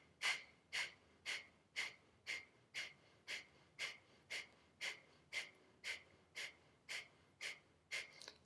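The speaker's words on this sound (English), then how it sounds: "Long, slow, deep breathing, or your breath of fire" Rhythmic forceful breathing in Kundalini yoga breath of fire, quick sharp nasal exhales repeating steadily about twice a second, close and quiet with no talking.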